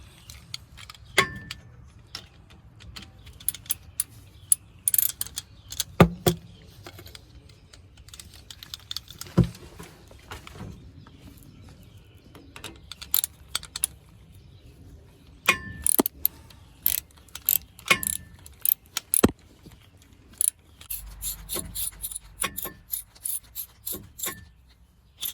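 Ratchet clicking in bursts while a bolt is tightened on a K1500 truck, sharp metallic ticks in irregular runs with occasional tool clanks, close and alone.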